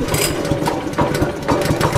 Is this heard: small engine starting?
yes